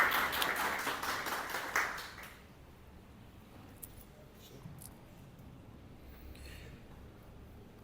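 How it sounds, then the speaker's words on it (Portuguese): Audience at a panel on preparing Amazonian cities for climate change briefly applauds the mediator: a burst of clapping for about two seconds that quickly dies away into quiet room noise with faint scattered sounds. "Peço uma salva de palmas aqui ao nosso mediador"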